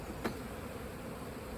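Honeybees hum steadily around an open beehive during a colony inspection, a soft continuous buzz with one brief louder burst early on and no talking.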